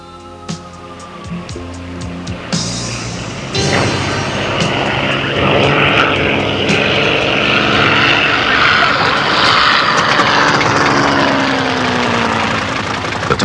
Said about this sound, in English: The Tomtit is started up.